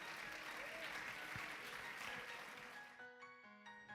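Sustained applause from a history forum audience for a panel, steady at first and then fading as music enters and takes over.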